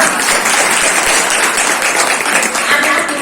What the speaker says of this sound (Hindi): आज आपकी ताली में बहुत कमी लग रही है